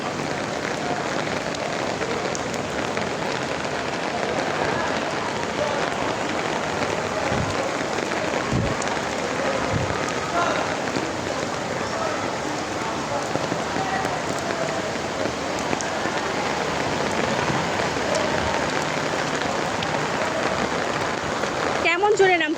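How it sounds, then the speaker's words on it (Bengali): Heavy rain falls as a dense, continuous hiss that holds at an even, loud level throughout, with scattered drops striking nearby surfaces. "পড়ছে আবার বৃষ্টি দেখছেন"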